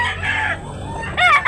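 A Zamboanga White rooster crows nearby, loud and drawn out, with a couple of short clucking bursts toward the end.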